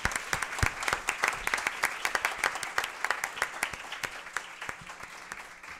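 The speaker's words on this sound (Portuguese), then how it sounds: "Aí, palmas." Applause at an event on Brazil's entry into the OECD, a steady patter of many hands with distinct sharp claps standing out, moderately distant and fairly soft, carrying on without pause.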